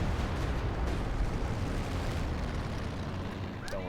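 A Stuka dive bomber strike in Company of Heroes 2 sets off a sustained, heavy, rumbling explosion that roars broadband for several seconds, with a small sharp crack near the end.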